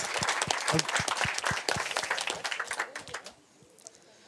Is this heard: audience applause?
yes